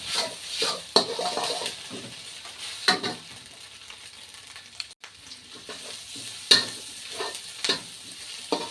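Four-flavour fried noodles with pork balls and Vietnamese pork sausage are stir-fried in a pan, with a spatula making scattered sharp clanks and scrapes over a soft, steady sizzle.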